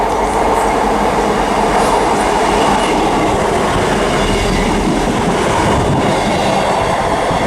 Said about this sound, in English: coming through now, we've got non-stop 158 passing through